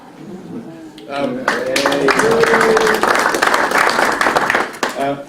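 A room breaks into applause, a dense crackle of many hands clapping for several seconds, with voices speaking before and after.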